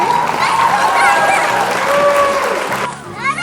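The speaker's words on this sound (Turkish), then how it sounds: "Alkış yap kendini." A child claps as a reward during a playful obstacle-course game at home. The bright, fast applause runs under excited voices and ends with a short pause.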